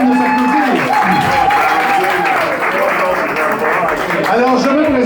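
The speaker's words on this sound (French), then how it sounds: "ça vaut la peine de s'applaudir" Applause from a crowd at a spaghetti supper fundraiser for a community radio station, loud clapping running under a voice that talks and sings in tones across the whole stretch.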